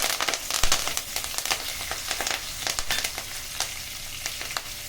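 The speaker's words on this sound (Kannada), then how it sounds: "ಇವಾಗ ಕರಿಬೇವು ಹಾಕ್ಕೊತಾ ಇದ್ದೀನಿ" Curry leaves and cumin seeds sizzle steadily in hot oil while jeera rice is cooked, with a dense crackling fizz and frequent sharp pops, close up and with no voices.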